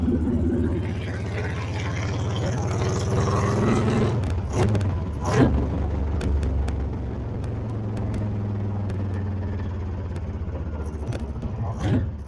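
A Honda CB750 single cam turbo motorcycle engine rumbles through its exhaust pipes, holding a deep steady growl with a few sharper bursts as it revs.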